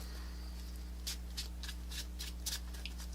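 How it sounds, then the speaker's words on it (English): Magic: The Gathering cards are shuffled by hand in short riffling bursts over a constant low electrical hum, fairly quiet and close, with no talk. "I'm gonna go a little cheap on the shuffling."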